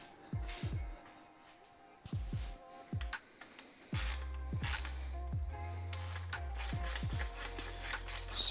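Socket ratchet clicking while working on a Canyon bike, quiet rapid pawl ticks in short bursts, then a rumbling, mechanical stretch with more clicking, no talking.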